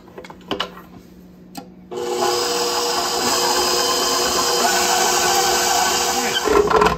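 Electric mixer creaming softened butter in a mixing bowl for carrot cake batter, starting after a few faint knocks and then running as a loud, steady whir for about five seconds before stopping.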